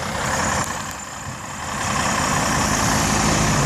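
A truck stuck on an ice-covered hill the morning after a Georgia snowstorm idles with a steady, heavy low rumble that dips briefly and then swells again.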